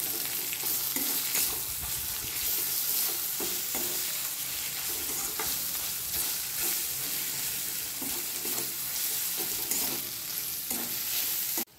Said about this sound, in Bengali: লঙ্কা বাটা, আদা বাটা, এই রসুন বাটা, আর হচ্ছে আদা বাটা, তিনটে একসাথেই পড়ে যাবে